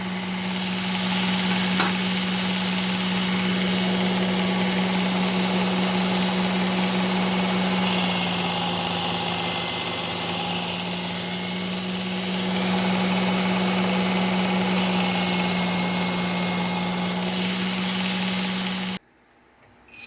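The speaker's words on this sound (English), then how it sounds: "All I'm doing is running the belt very flat just to take any burr off" Belt grinder running steadily as a Cuisinart kitchen knife is laid flat against the belt to remove the burr, a loud continuous motor hum with a strong tonal whine and slight shifts in load, cutting off abruptly at the end.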